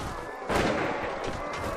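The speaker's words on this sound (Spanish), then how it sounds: "Yo voy a meter tiros por ahí como si no hubiese un mañana." Gunfire in the medieval battle game Mount and Blade, with infantry and enemy cavalry nearby: a loud sustained volley with one sharper burst partway through, over continuous battle noise.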